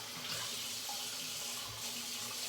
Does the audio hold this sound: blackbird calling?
no